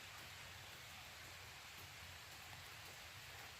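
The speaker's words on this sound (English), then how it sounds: "it's pretty heavy rain" Heavy rain pours steadily outdoors during a wet-weather fire-starting test, a dense, constant hiss filling the whole clip with no voices.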